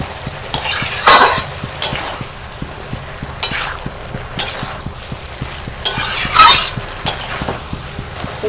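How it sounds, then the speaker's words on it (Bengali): Bottle gourd greens stirred in a pan as mustard and green chili paste goes in, with repeated scraping strokes of a spatula and clinks against the pan over a low steady sizzle. "এবার সরষে আর কাঁচা লঙ্কার বাটাটা দিয়ে দেবো।"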